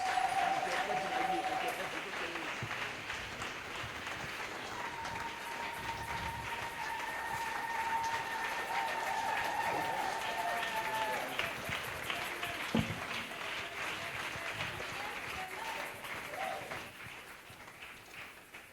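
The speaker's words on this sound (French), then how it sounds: "On acclame très fort pour" Loud, sustained applause from a large audience at a prophetic church gathering, welcoming the day's speaker, with crowd noise and voices mixed in, holding steady for most of the stretch before easing slightly at the end.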